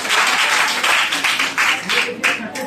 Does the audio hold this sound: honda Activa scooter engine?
no